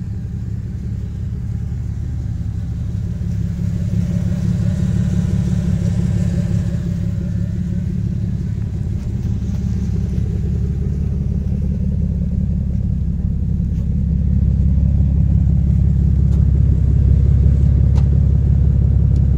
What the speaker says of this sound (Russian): Ох, ребята, это дрифт.